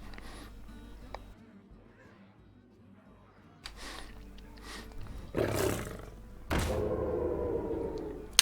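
A jungle panther's roar in the video game Hearthstone bursts out loudly over low ambient noise, a rough growling surge followed by a longer, sustained roar.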